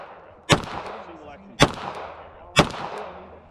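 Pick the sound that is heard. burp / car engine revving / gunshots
gunshots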